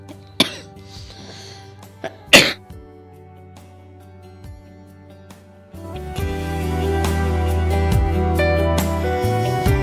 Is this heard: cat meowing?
no